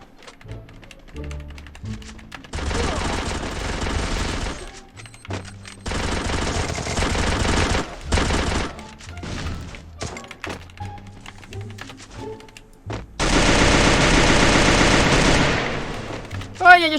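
Bursts of automatic gunfire from the Free Fire battle royale game, with several long rapid volleys and scattered single shots and thuds, loud and close, over background game sounds.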